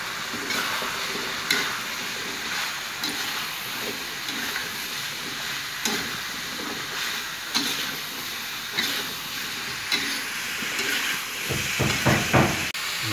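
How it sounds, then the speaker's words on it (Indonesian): Broccoli and cauliflower being stirred in a hot pan, a steady soft sizzle and hiss with occasional clanks of the spatula, growing louder and busier toward the end, with no talking. "ini kembang kol sama brokolinya dimasukkan teman-teman ini, diaduk rata seperti ini"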